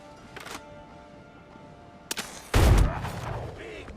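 Gunfire rings out in the pirate video game Windrose: a couple of faint distant shots early on, then a sharp crack followed by a loud, booming blast that rumbles and fades over about a second.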